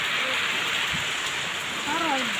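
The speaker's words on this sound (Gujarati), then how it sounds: "હવે તો વરસાદ વરે છે" Steady rain falls outdoors in a rural farm setting, a constant hiss of drops covering the whole moment, with faint voices faintly audible underneath.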